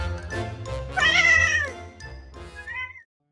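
A pet cat gives a few meows, one long drawn-out call in the middle and a shorter one near the end, close and clear with no talking.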